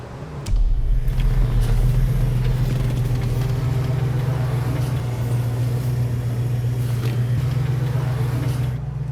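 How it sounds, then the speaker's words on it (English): A Dodge Coronet idling and revving with a deep, steady low rumble, close and continuous, while preparing to race. "about to race this wonderful Coronet"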